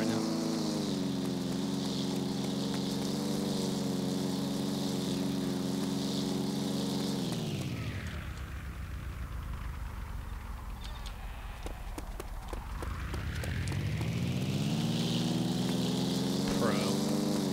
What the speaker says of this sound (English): Do you mind turning your engine off right now?